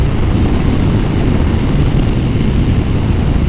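A Yamaha Tmax 500 scooter being ridden, its engine and road noise a steady, loud broadband drone with wind rush throughout, no clear pitch changes.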